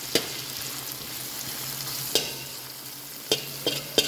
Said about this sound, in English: I'm adding some garlic and onions now.